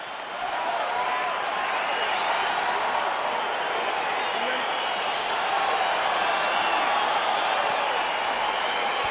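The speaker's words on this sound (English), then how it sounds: "crowd getting excited as this fight gets underway" A large arena crowd at a UFC event roars steadily as the fight gets underway, a dense continuous wall of cheering that stays loud throughout.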